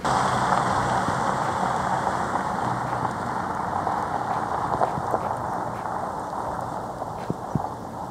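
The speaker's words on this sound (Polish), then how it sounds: "Pogoda nam się zrobiła iście brytyjska, deszcz pada" Steady rain hiss and road rumble surround a Range Rover being driven through forest on light terrain, a continuous wash of noise with occasional soft knocks and no talking.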